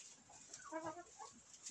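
Pushkin breed chickens on a farm give a few soft, faint clucks, a brief cluster of calls in a quiet setting.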